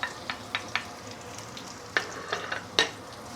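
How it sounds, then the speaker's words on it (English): Ginger, shallot and garlic sauté in vegetable oil for a braised pork dish, a soft low sizzle under a run of sharp, separate scrapes and taps as a utensil stirs the pan. "we're going to saute the ginger, shallot, and also garlic"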